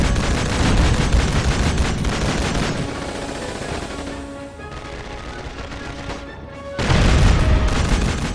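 Gunfire and explosions crowd a war scene in Call of Duty 2: Big Red One on PlayStation 2: dense rifle and machine-gun bursts over constant battle noise, easing briefly before a heavy blast surges back in.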